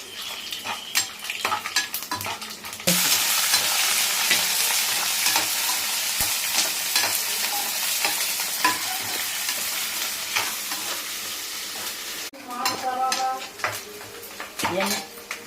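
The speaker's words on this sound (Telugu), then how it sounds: "జీలకర్ర ఇవన్నీ వేసుకోవాలి, వేయించుకోవాలి." Carrots, kandipappu and cumin frying in a pan, with clattering utensil scrapes at the start and end around a loud, steady close sizzle.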